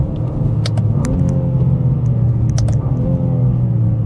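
BMW G87 M2 driving on a road, its engine a steady, loud low rumble with road and tyre roar throughout, plus a few faint clicks and taps near the microphone.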